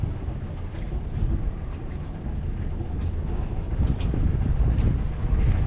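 Wind gusts steadily around a boat coming alongside a fuel dock, a continuous low roar with buffeting mic noise, fairly loud and without talk.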